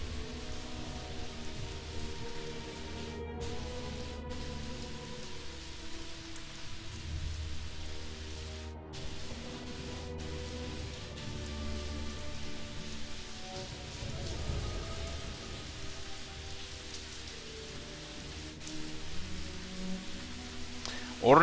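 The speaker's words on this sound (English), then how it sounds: "It's raining outside, you can hear it." Steady rain falls outside in a video game, a continuous even patter of drops that holds throughout without pause.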